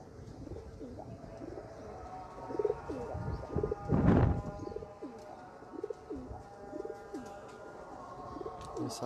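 Royal Teddy pigeons wearing leg rings coo steadily in a loft, soft repeated throaty coos at an even rhythm, with a brief louder rustle or flutter in the middle and faint background voices.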